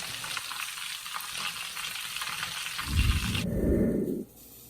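Lamb pieces for a brown stew frying in a hot pan, a continuous bright sizzle with scraping stirs, then a louder, deeper burst of bubbling hiss before it abruptly dies down to a quiet hush.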